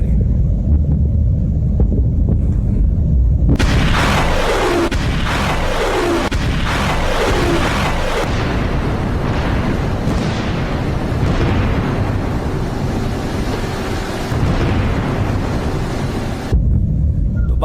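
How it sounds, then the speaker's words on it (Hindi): Heavy blasts from an Iranian missile and drone attack on Baghdad roll in as a few deep booms followed by a long, dense rumble under constant wind buffeting on the microphone, sounding distant but powerful. "धमाके सुनिए।"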